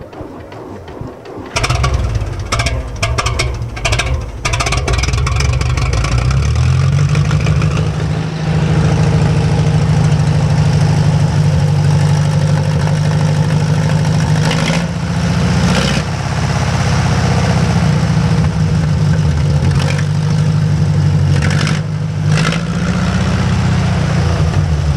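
An antique National automobile engine is cranked and fires up, catching after a few seconds and then settling into a loud, steady, deep idle close by, with occasional rises in revs.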